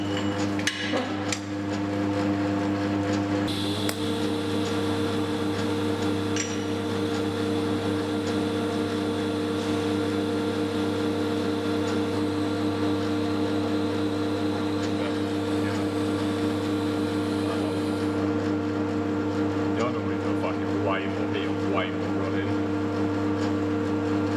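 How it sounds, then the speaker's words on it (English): Welding on a thick steel flange of a car exhaust down pipe for a compound turbo Mk1 Fiesta, a steady continuous buzzing hum with crackle that runs unbroken throughout, close and fairly loud. "then we can weld it up. Hopefully it won't warp too much."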